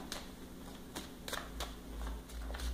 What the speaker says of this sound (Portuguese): Embaralhar.